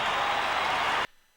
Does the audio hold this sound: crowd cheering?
yes